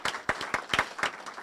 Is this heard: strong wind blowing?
no